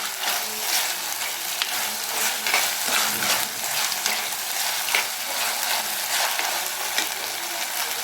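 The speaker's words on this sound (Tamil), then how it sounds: "இப்போ நல்லா வதக்கிக்கோங்க பச்சை வாசனை போகணும் அதனால் நல்லா வதக்கிப்போம்" Chicken curry masala with onion and ginger-garlic paste is sautéed in a pan, giving a loud, close, continuous sizzle with scraping stirs and crackling spatters throughout.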